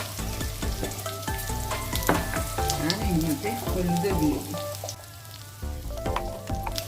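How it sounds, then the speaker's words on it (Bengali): Potatoes and pointed gourd fry in a pan with a steady crackling sizzle and occasional clinks of stirring, while someone talks over the cooking. "একটু ভালো করে ভাজা করে নিই"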